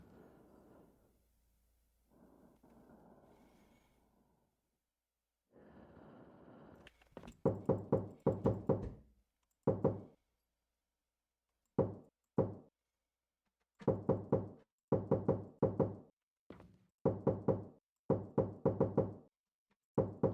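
Knocking on walls in the video game There are people in your walls: clusters of sharp, close knocks in rapid runs and single raps, separated by pauses, after a stretch of muffled low rumbling.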